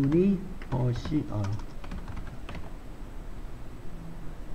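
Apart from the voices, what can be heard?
typing on a computer keyboard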